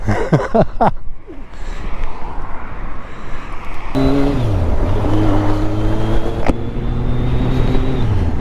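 A motorcycle engine runs loud and close at the start of a ride, its steady roar climbing in pitch as it revs up, then dropping and rising again through clear gear changes.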